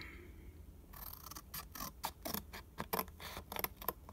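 Scissors cutting paper for a DIY journal clip, a quick run of close, crisp snips and rustles following a short quiet lead-in; no speech.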